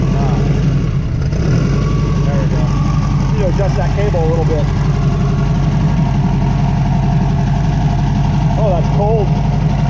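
A turbocharged 1967 Volkswagen Beetle engine idles outdoors with a loud, steady low rumble and throb that holds unbroken, while someone talks over it close by.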